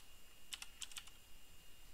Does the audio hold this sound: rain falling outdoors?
no